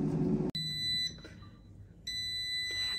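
Electronic beeps from an air fryer reheating a Greggs steak bake: a high-pitched tone sounds, pauses, then beeps again, clear and close in an otherwise quiet room after a brief thump.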